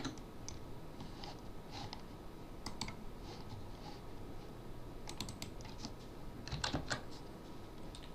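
Light, irregular keystrokes on a computer keyboard tap at a moderate pace as a value is typed into an Access 2013 default value field, some presses in quick clusters, steady and fairly close under a constant background hiss.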